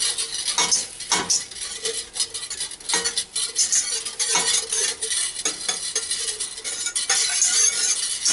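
A utensil scrapes and clinks steadily around a pan as two tablespoons of butter melt with a soft sizzle, close and continuous with no one talking.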